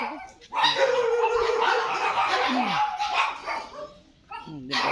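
A dog barks and yips in a quick close burst, then whimpers, on a rural homestead with chickens, goats, cows and ducks, a voice briefly audible.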